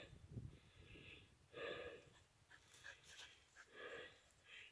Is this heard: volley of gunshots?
no